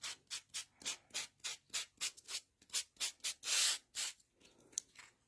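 Cardstock is sanded by hand to remove some of its color, giving a rapid series of about fifteen rhythmic scratchy rubbing strokes, close and crisp, with no talk.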